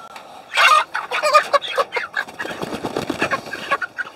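Chickens raised for meat cluck close by on a farm, with busy overlapping calls that come in bursts and then settle into quicker, softer chatter.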